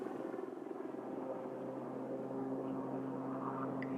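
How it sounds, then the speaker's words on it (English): Westland Lynx twin-engined all-weather lightweight military helicopter, armed with Sea Skua missiles and fitted with a Sea Spray nose radar, flying at an air display; a steady, moderately distant rotor and turbine drone holds for the whole stretch, with no talk. "the Westland Lynx is a twin-engined, all-weather, lightweight helicopter"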